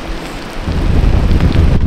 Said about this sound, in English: super windy all of a sudden